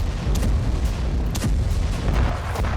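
Bombs exploding in Israeli strikes on Gaza: a continuous barrage of booming blasts, several sharp cracks standing out over a heavy, rumbling background.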